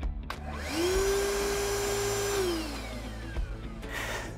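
A Ryobi R18PV-0 cordless 2-in-1 vacuum and blower motor spins up with a rising whine, holds a steady high-pitched drone for a couple of seconds, then winds down, heard close and alone.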